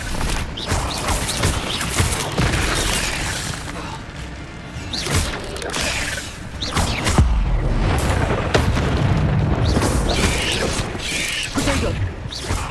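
Incendio fire spells blast during spell combat in the video game Hogwarts Legacy: repeated heavy booms and thuds with mechanical clatter between them, loud and irregular.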